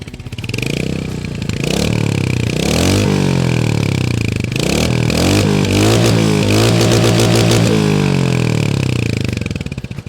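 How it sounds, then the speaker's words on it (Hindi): A Royal Enfield Hunter 350 motorcycle exhaust idles loudly and steadily, a deep burbling rumble with uneven pulses and no revving. "ये आइडल कंडीशन पर इसका एग्जॉस्ट नोट है, यानी कि विदाउट थ्रॉटल।"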